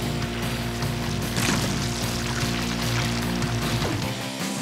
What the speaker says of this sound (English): The cement is mixed and ready to pour.